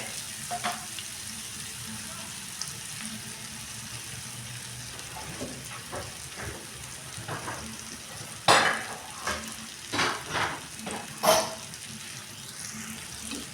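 Brinjal and potato simmer and sizzle gently in spiced masala over a low gas flame, a soft steady frying hiss broken near the end by several louder scraping stirs, close up with no talk.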